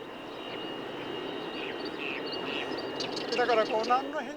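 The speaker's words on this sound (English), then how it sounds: "You see those airplanes over there? They are 4M Skyhawks." Military Skyhawk airplanes fly overhead as a broad, steady roar of jet engine noise, while a person speaks briefly over it near the end.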